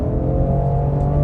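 Steady, loud engine drone of a Ford Explorer ST held at about 2,000 rpm, fitted with an aftermarket FenFab transmission mount insert, a constant low hum with no talk over it.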